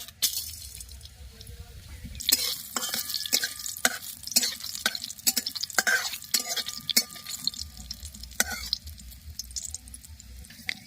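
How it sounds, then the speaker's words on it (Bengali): Panch phoron and dried red chilies sizzling in hot oil in a kadai over a stove. A quiet hiss runs under repeated sharp clinks and stirring scrapes, close by. "তেল গরম হয়ে গেছে ফোড়ন হিসাবে দিয়ে দেব পাঁচ ফোড়ন শুকনো লঙ্কা"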